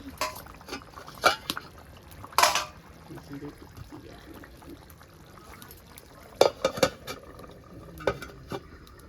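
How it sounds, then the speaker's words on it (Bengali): A utensil stirs fish and potato curry in a pan, giving a few sharp scraping clinks against the metal amid quiet background bustle. "একটু নেড়ে দিলাম"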